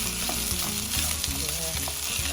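Steady close sizzle of rice being stir-fried with shrimp chili paste in a hot pan, with a spatula scraping and tossing in an even rhythm, no voices.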